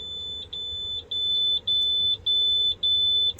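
A high-pitched electronic warning beep for engine coolant temperature above critical level sounds repeatedly in an overheated 2007 International 4200 truck, long steady tones separated by brief gaps, over a low mechanical hum.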